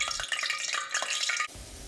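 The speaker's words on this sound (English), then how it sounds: "If you want to know when the oil is ready, make sure to get some water on your hands and flick it into the pot. And if it sizzles like this" Water flicked into hot frying oil in a pot for beignets crackles and sizzles with dense, bright popping. It runs loud and continuous for about a second and a half, then cuts to a quieter hiss.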